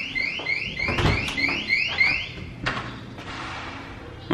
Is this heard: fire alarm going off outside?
yes